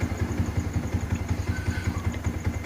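Fuel-injected motorcycle with automatic idle control idles close by, a steady pulsing low throb with fast regular beats and light mechanical clatter, no speech.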